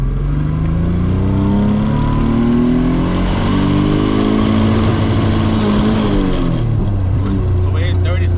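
A Nissan S13 fitted with an R32 differential swap accelerates in first gear, its engine revving loud and close with a rising then falling drone that ends in a short chatter; a voice can be heard under the engine.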